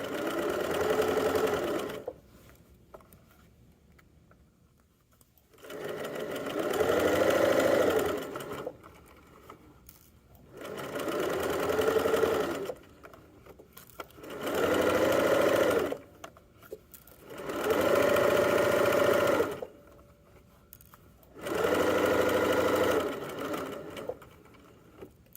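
A sewing machine stitches the side seams of pajama pants in repeated runs of steady whirring, each lasting a few seconds, separated by quiet pauses with faint handling sounds between them.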